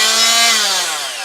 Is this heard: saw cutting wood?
yes